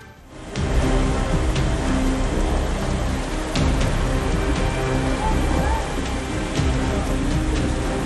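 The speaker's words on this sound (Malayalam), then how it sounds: "കലിമഴ തുടരും." Heavy monsoon rain in Kerala pours down as a dense, steady roar of rainfall hitting surfaces. It starts after a brief quieter moment and stays loud and continuous, with no voices over it.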